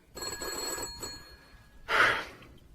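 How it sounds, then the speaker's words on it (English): A telephone bell rings in two bursts with a pause between them, loud and close, with no voices over it. "The telephone, that is."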